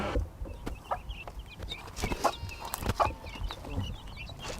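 Chickens at a poultry farm cluck and chatter in short, scattered bursts, several birds close by against a low background murmur of the flock, with no voices.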